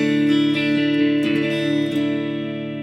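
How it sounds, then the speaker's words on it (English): Sustained clean electric guitar chord rings out through an amp model with the speaker cab engaged on a Quad Cortex, with a few light picked notes over it, smooth and free of top-end sizzle. "So it's taken all that top end sizzle away, but it's still got a really nice clean tone to it."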